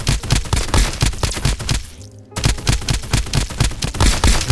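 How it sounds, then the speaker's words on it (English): A shotgun loaded with advanced AP shells fires repeatedly in Escape from Duckov, loud rapid blasts in quick succession with a brief pause midway before the volley resumes. "This with the advanced AP shotgun shells,"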